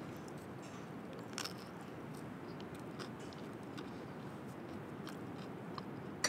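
Close, quiet chewing of a corn tortilla taco filled with barbecue-sauced jackfruit, tzatziki, cucumber and tomato, steady soft crunching and mashing over several seconds, with no talking.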